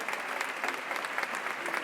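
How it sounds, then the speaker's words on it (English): An audience applauds steadily for the whole stretch, a dense, even patter of many hands clapping without pauses. "Clapping?"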